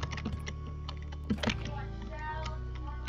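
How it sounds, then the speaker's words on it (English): A loud computer keyboard clacking during a gaming session: rapid, irregular keystrokes tapping over a steady electronic hum, with a few sharper, heavier key hits partway through. "I have a very loud keyboard, so I'm sorry if you can't really hear me very well because of all the clacking of my keyboard"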